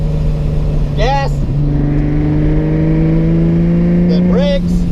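A car engine drones steadily and rises in pitch as it accelerates on a track during a driving session, close and loud, with people talking over it.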